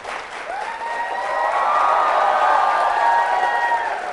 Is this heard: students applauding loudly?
yes